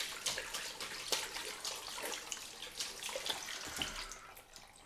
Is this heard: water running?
yes